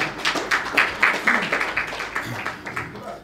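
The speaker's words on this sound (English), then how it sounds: "Give him a round of applause" A brief patter of clapping from a small crowd at a talk on farming in Kenya, with voices mixed in underneath.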